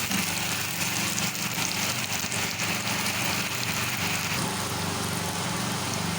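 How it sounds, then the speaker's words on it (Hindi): Electric generator running in the background in a Karachi home kitchen, a constant broadband droning hum with a faint low rumble, steady throughout with no talking. "जनरेटर चल रहा है"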